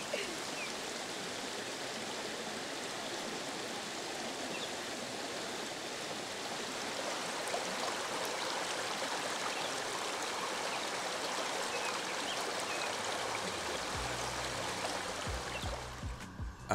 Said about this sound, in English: and full, recharged, I explored the waterfall.